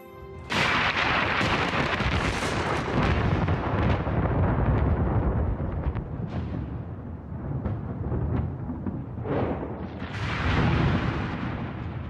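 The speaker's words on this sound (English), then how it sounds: "During thunderstorms, electric charges build up, creating lightning bolts that reach tens of thousands of degrees." Heavy thunder from a thunderstorm with lightning: a loud, continuous rolling rumble with sharper cracks and swells throughout, and no voices.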